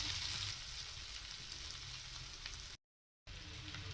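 Onions frying and stirred in a pan until reddish for a potato palya, making a quiet, steady sizzle that drops out for a moment before resuming.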